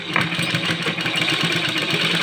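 A sewing machine runs steadily, stitching the side seam of a kameez, its continuous motor whir holding an even level close by with no talking.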